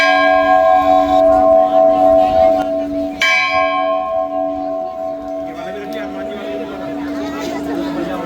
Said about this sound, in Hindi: यहाँ भी देखो घंटा बजाता है